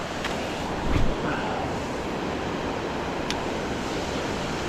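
Continuous rushing water at a dam, a broad steady roar heard from nearby, with a brief thump and wind buffeting on the microphone.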